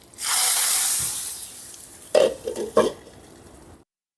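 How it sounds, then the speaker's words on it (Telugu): Hot tempering is poured into moong dal soup: a loud hiss bursts out and sizzles steadily for about two seconds, then a few sharp spluttering pops and crackles follow before it fades. "ఇప్పుడు పోపు పెట్టుకుందాం"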